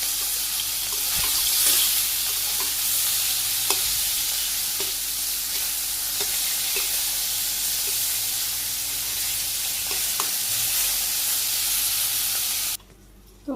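Fish fries in hot oil in a pan in a Bangladeshi village kitchen, giving a steady loud sizzle throughout with occasional clinks and scrapes of turning, stopping abruptly near the end.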